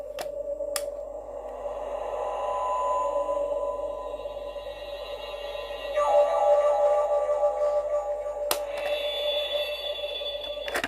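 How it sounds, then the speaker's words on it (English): Doctor Who Eleventh Doctor flight control TARDIS toy plays its interior hum through small speakers: a steady electronic drone with pulsing undertones, a few sharp clicks and a shift in pitch midway, fairly loud and constant. "actually makes the TARDIS noises, the interior hum, which is really cool, and it's quite loud actually, from the speakers"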